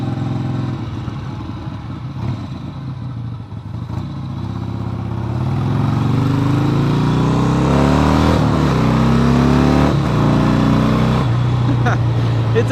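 A motorcycle engine revs loudly inside a tunnel, the roar climbing in pitch through the gears and echoing off the walls, starting low and steady before swelling into a loud, sustained blast.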